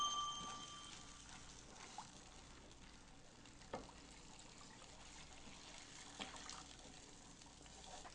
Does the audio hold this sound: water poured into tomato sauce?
yes